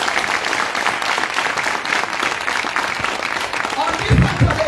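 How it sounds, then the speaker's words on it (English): A crowd at a public gathering for Sierra Leone's First Lady applauds with steady, dense clapping throughout, with some low thumps near the end. "Una no clap for her."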